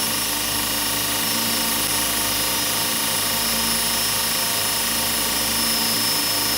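A 2 HP servo motor drives a Grizzly 2x42 belt grinder at top speed, giving a steady, loud, continuous high-pitched whine and hum with an even drone and no pauses.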